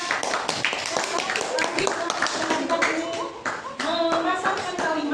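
A classroom group claps together for a team of pupils, rapid overlapping handclaps with children's voices mixed in, fairly close and steady throughout.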